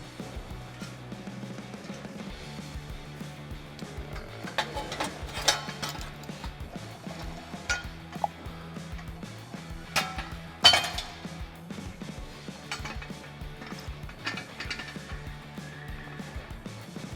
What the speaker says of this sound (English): Slide your clamp onto the muffler.